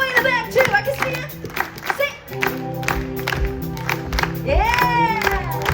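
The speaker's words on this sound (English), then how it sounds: "Clap, clap, clap, clap, clap." Audience at a Disneyland Festival of Holidays show clapping along in rhythm, steady claps over bright music with children's voices and a performer talking.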